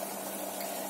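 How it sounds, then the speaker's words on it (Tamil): Jaggery water boils steadily in a pan, a continuous close bubbling hiss of even loudness throughout with no talk. "இப்ப பாருங்க நல்லா கொதிச்சு வந்திருக்கு."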